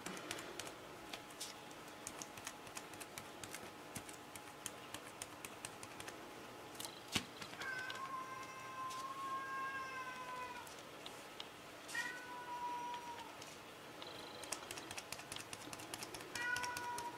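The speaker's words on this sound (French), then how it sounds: "Il y a le chat qui veut sortir." A house cat meows several times, asking to be let outside, its short harmonic calls close by over a quiet room with faint tapping and handling noises.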